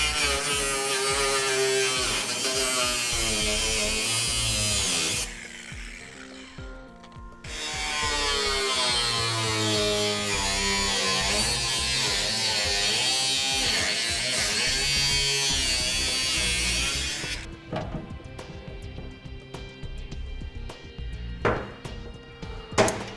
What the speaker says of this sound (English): we're going to use our cutoff wheel that we used earlier